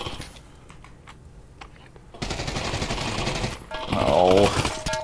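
Gunfire from a sniper rifle in the Call of Duty VR video game, sparse sharp shots at first, then a louder dense burst of game noise with a warbling tone near the end.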